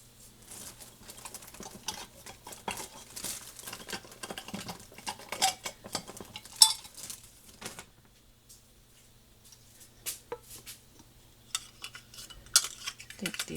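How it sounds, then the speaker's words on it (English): Metal Ball canning lids are set onto glass jars during home canning of chicken, giving light scattered clinks and rattles, quiet and irregular, with brief pauses and a few sharper taps near the end. "Add our lids. Make sure they're not bent or anything."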